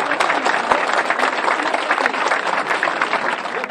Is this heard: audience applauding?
yes